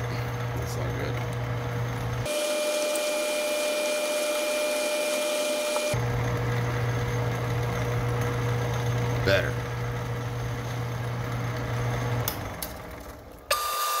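A machine tool hums steadily with a constant motor whine and a faint cutting rasp, shifting in tone midway, then winding down at the end.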